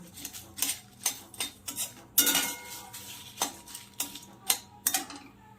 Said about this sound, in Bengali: কড়াইতে আমি এবার এই মশলাগুলো দিয়ে দিচ্ছি। দিয়ে আমি এবার নেড়ে এটাকে শুকনো খোলায় একটু